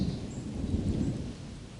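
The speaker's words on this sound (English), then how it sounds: "Seems like it's always raining when I'm meeting you lately." Thunder rumbling low under steady rain outdoors in a deep-mulch no-till garden, a continuous rolling growl with a constant patter on top and no talking.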